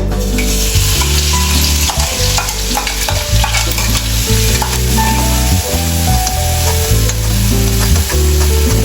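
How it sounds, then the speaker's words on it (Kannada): Masala fries in oil in a pan for vada pav, with a loud, continuous sizzle and frequent scraping stirs throughout, close up and without talking. "ಇವಾಗ ಮಸಾಲೆ ಎಣ್ಣೆಲಿ ಸ್ವಲ್ಪ ಚೆನ್ನಾಗಿ ಫ್ರೈ ಮಾಡ್ಕೋಬೇಕು"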